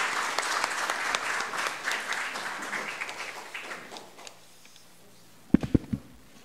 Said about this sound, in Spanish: les pido un aplauso para este panel